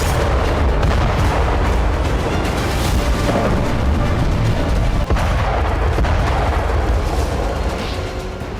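Destructive bomb explosion, a loud sustained roaring rumble with heavy low boom and crackling debris, continuous throughout without talk.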